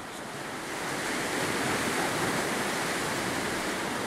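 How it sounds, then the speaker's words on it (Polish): Sea waves at the pier in Gdynia Orłowo on the Baltic coast, a steady broad rush of surf and wind noise, continuous and alone. "Morze nam tutaj szumi"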